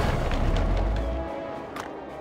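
Artillery and gunfire from the war video game World War Armies arrive as a heavy low boom at the start, then fade out. Faint scattered impacts follow, with no speech.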